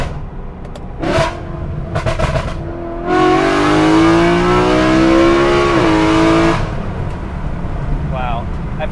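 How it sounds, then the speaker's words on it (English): A loud BMW E92 M3 engine with a custom carbon fiber intake, heard with the windows half open, revs up and accelerates with a rising, sustained roar for a few seconds, then drops back to idle; brief revs before and after. "I forget how loud this car is with the windows open"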